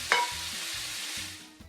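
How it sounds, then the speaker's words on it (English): Chunks of meat sear at high heat in sizzling hot fat in a pan for goulash, a loud, continuous hiss close by with a few soft stirring knocks underneath. "sear the succulent pieces of meat beautifully on all sides at a high heat in the sizzling hot fat"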